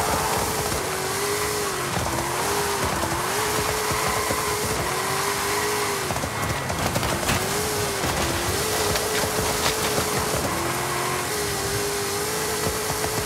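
The Back to the Future DeLorean's engine in Forza Horizon: a steady, loud engine drone that rises in pitch and drops back as the car shifts through its gears, several times over, with no talking.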